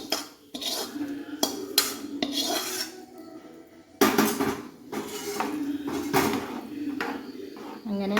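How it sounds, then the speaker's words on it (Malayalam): Fried cashews and raisins go into a pan of banana cooked in milk, with a spoon scraping, clinking and stirring against the metal pan in bursts separated by short pauses. "ഇനി ഇതിലേക്ക് വറുത്ത് വെച്ച അണ്ടിപ്പരിപ്പും മുന്തിരി ഇടാം"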